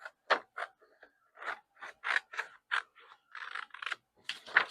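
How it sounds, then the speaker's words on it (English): Scissors cut paper to size with a series of short, crisp snips in an uneven rhythm, close and clear in a quiet room. "So then all I have to do is cut it"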